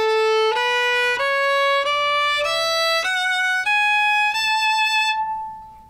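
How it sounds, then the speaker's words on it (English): A violin bowed arco with a horsehair bow plays a clear, sustained melody of about eight notes that step steadily from one to the next, up close and alone, with the last note ringing out. "And when you play arco, it sounds like this."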